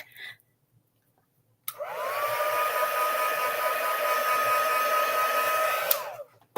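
A heat tool blows over freshly stamped ink to dry it. A steady, loud whirring hiss starts abruptly after a short silence, holds for about four seconds, then cuts off.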